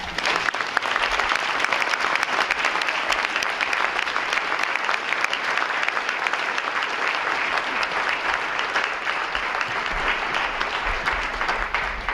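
An audience claps steadily and fairly loudly for about twelve seconds to welcome speakers at the opening session of a conference, a dense, even applause without pauses.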